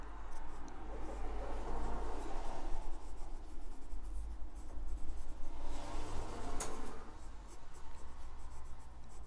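Faber-Castell Fresh fountain pen with a medium nib writing on paper, giving a steady, soft scratching that runs throughout at close range with no talk.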